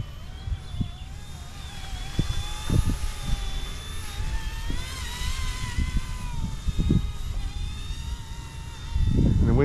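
Eachine E120 toy RC helicopter flying close by in gusty wind, a steady high-pitched rotor and motor whine with shifting tones that runs throughout, with some low rumbling wind bursts, including a loud one at the end.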